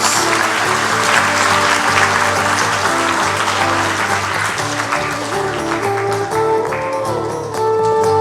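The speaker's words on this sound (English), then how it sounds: "Let's give everyone a round of applause from those plums" Audience applause fills a graduation ceremony hall at Shiva Boys Hindu College, steady and loud for the whole stretch, with sustained musical tones running underneath the clapping.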